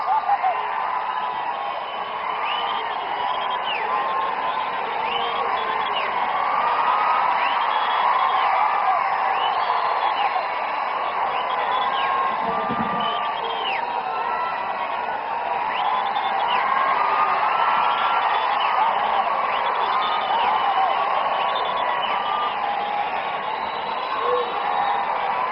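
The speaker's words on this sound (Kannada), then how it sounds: "ನಿಮ್ಮ ಜಯಕಾರ ಜೋರಾದ ಚಪ್ಪಾಳೆ ಮುಖ್ಯನ ವೇದಿಕೆಗೆ ಸ್ವಾಗತಿಸಿ" A large crowd at a BJP ST Morcha rally in Lingasugur, Raichur, cheers and claps continuously in a loud, dense wash with shrill whistles and shouts.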